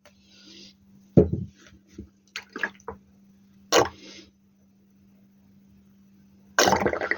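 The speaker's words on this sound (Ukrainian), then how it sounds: "Так, додаю олію." Cooking oil poured into cake batter for a simple homemade pie, heard as brief liquid drips and splashes mixed with a few light knocks over a low steady hum, with no talking.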